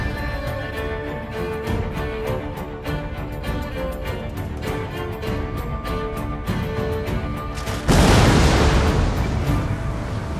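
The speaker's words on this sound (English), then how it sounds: "they were met with a devastating barrage of artillery fire" Artillery cannon barrage from the 1453 Battle of Castillon, heavy booms rolling continuously and loud, swelling into a denser, harsher roar near the end, with no talking.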